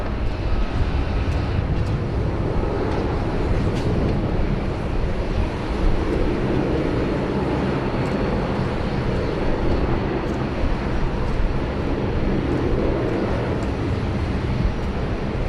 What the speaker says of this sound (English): Here we go, the beautiful, beautiful lines of the A350-900 of Delta